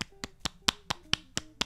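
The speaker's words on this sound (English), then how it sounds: "That was me clapping, just for clarity." Eight sharp hand claps in a steady, fairly quick rhythm, close and crisp with nothing else around them.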